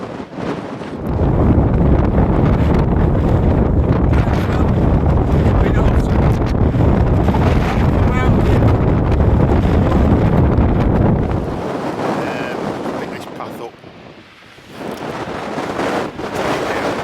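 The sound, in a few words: strong wind on fell top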